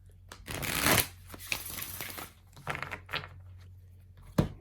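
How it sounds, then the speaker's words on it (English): Tarot cards are shuffled close up in a quiet room, with riffling bursts and soft slides rising and falling, then a final sharp tap as the deck settles. "Let's do one more shuffle."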